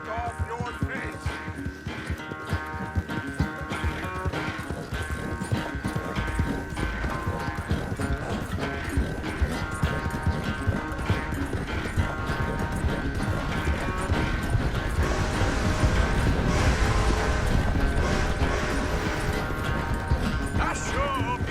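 Horse hooves clip-clopping at a slow walk in Red Dead Redemption 2, a steady even rhythm of hoofbeats over a continuous ambient game soundscape, with no talk over it.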